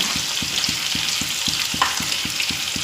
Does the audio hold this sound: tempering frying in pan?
yes